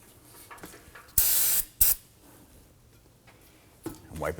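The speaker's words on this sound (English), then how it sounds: "Go ahead and give it a quick spray with some solvent to clean this up." Solvent cleaner sprayed onto a part of a 2003-2014 Volvo XC90 3.2L inline-six engine during an oil change: two close, loud hissing bursts, one about half a second long and a shorter one just after, with quiet workshop sounds around them.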